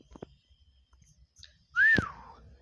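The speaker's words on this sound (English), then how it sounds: "Sorry, guys, if y'all heard that whistle. That was me." A single loud, rising-then-falling whistle by a person, sudden and close, following a stretch of near-quiet with faint background noise during online gameplay.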